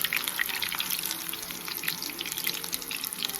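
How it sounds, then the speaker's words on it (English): Meatballs browning in a skillet for keto albondigas soup, a steady close hiss of frying fat that continues without a break, with no talk. "We just have them here in the skillet, and we're just browning them."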